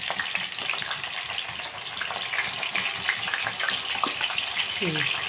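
Green chillies dropped into hot oil over an onion-tomato paste for a fish curry, giving a loud, dense, continuous sizzle that stays close and even throughout.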